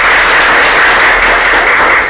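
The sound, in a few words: audience applause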